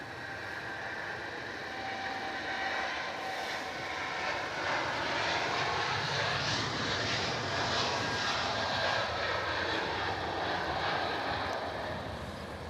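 A United Airlines jet's engines roar steadily at Melbourne Airport, a loud, sustained rumble with whining tones that swell and shift through the middle as the plane passes, with no voices.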